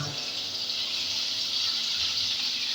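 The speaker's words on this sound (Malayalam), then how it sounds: "അപ്പം ഇതിലേക്ക് കുറച്ച് വെള്ളം ഒഴിച്ച് കൊടുക്കാം. വെറും വെള്ളം." Plain water pours into a cooking pot for a Vadakara-style fish curry made without spices, a steady close gushing stream that runs unbroken for the whole stretch.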